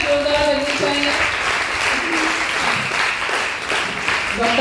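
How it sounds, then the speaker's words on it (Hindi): Applause from an audience at a college stress-management event under the National Health Mission, a loud, dense, steady clapping that fills the room throughout while a voice speaks over it through amplification. "तालियां जोरदार लगनी चाहिए।"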